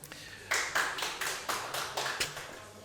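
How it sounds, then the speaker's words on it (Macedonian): A small audience at a political forum in Bitola claps in a sparse, slightly irregular run of separate hand claps at a moderate pace, fairly close and distinct, with no voices over it. "Океј, не очекуван аплауз, фала,"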